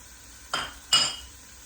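Onions drop into hot avocado oil in a pan for a vegetarian pancit canton, giving two quick bursts of sizzle, each a sharp hiss that fades over a short, quiet background.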